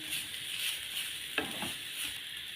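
Grated coconut roasting in a pan, a soft, steady sizzle with faint scraping as it is stirred, and one brief louder scrape midway, heard up close and without speech.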